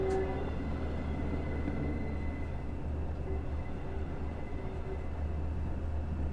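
A locomotive grinds around sharp curves, with high thin flange squeal riding over a steady, heavy rolling rumble of wheels and engine close by, continuous for the whole stretch.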